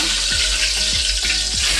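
Steady frying sizzle of food in hot oil, a continuous crackling hiss with a few soft low thumps, no voices.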